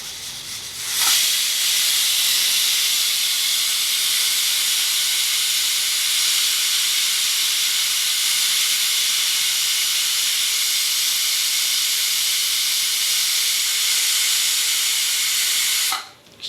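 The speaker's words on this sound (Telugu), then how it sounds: "ఒక్క విజిల్ వస్తే ఆఫ్ చేసుకుందామండి." A pressure cooker on the stove, cooking pumpkin, brinjal and sweet potato for a tamarind stew, lets out one long, loud whistle of escaping steam lasting around fifteen seconds before it cuts off.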